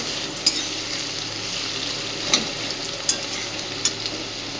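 Potatoes fry in a pan, giving off a steady, moderate sizzle while a utensil stirs them, with four sharp scrapes or clicks against the pan spaced a second or two apart.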